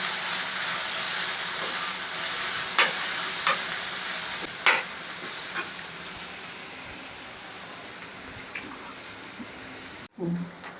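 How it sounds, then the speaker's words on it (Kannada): A spoon stirs pepper and turmeric powder into a mix for egg cheese pakoda. Close scraping and occasional sharp clinks come in bursts over a soft, steady hiss, ending with a brief knock. "ಪೆಪ್ಪರ್ 1 ಸ್ಪೂನು, ಟರ್ಮರಿಕ್ ಪೌಡರು, ಅರಿಶಿನ, ಇದೆಲ್ಲ ಹಾಕ್ಕೊಂಡು ಒಂದ್ಸರಿ ಮಿಕ್ಸ್ ಮಾಡ್ಕೊಳ್ಳಿ ಚೆನ್ನಾಗಿ"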